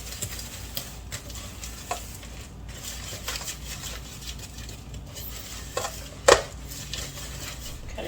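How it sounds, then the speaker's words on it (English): Graham cracker crumbs stirred with melted butter in a bowl for a no-bake cheesecake crust: a soft, steady scraping and swishing close by, with one sharper clink of the utensil against the bowl near the end. No talking. "keep stirring it till all your graham crackers are moistened with the butter"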